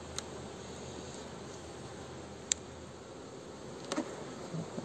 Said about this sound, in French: c'est une ruche que l'on m'a donnée. Avec des abeilles dedans.